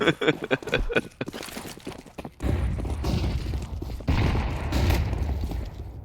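Rapid pistol gunshots, including Desert Eagles, in a competitive Counter-Strike-style shooter match, a fast burst of sharp cracks followed by dense overlapping game noise and impacts.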